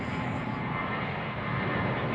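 A Jetstar Airbus A321 jet departs from Sydney Airport with a steady, loud broadband engine roar that holds for the whole stretch and swells slightly near the end.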